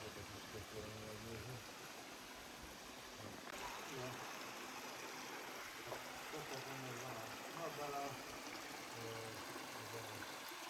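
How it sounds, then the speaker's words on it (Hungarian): A faint, steady babble of a small stream in a gorge in the Northern Carpathians, heard at a distance beneath quiet talking. "Innen már jobban látszik a csobogás forrása, ami egy patak."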